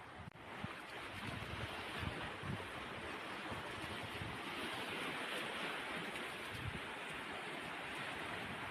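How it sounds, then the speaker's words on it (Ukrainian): Continuous rushing surf of sea waves washing over a shore of pebbles and boulders, broad and steady with wind buffeting the microphone throughout. "Трошки вам шум моря поставити"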